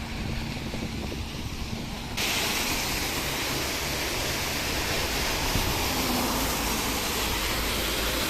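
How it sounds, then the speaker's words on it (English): A street water feature in Sharm El Sheikh pours with a constant broadband rush and splash, growing noticeably louder partway through and continuing steadily. "And this street also has an interesting water feature."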